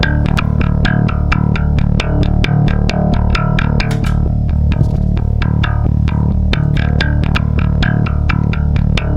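A bass loop plays through a real Gallien-Krueger amp with every control set flat at 12 o'clock. Loud, evenly repeating plucked notes with a slightly gritty tone continue steadily throughout.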